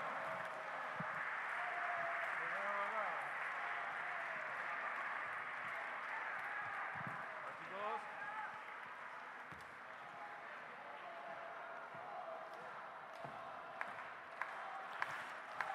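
Audience applause fills the hall after a big band concert in San Vicente de Taguatagua, a steady sustained wash of clapping with faint voices and cheers mixed in, easing slightly toward the end.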